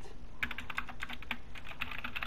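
Typing on an Anne Pro 2 mechanical keyboard, a quick irregular run of crisp, close key clacks lasting a couple of seconds, with no talk.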